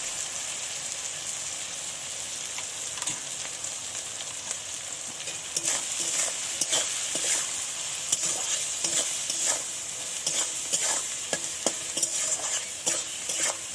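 Oil with a little turmeric fries in a pan before the meat goes in, sounding as a bright steady sizzle that grows louder midway, broken by repeated scraping strokes of a spatula; no voices.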